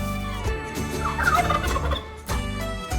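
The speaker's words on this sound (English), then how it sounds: "I see a turkey." A turkey gobbles in a loud, close, rapid warbling burst in the middle, set against a background of music.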